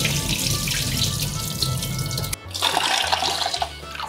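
Rice is washed under running water for a traditional probiotic kali kunda preparation: a loud, continuous rush of tap water splashing into a vessel, changing to heavier sloshing and gurgling halfway through.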